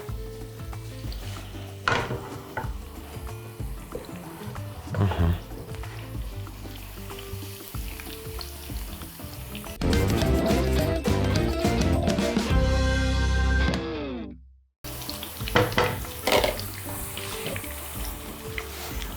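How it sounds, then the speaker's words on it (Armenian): Noodles hit a wok over strong heat with a loud burst of frying and continuous tossing and scraping, shifting into a roaring hiss before a short break and more clattering stirring; no speech. "կավելացնենք լապշան և ուժեղ կրակի վրա կտապակենք"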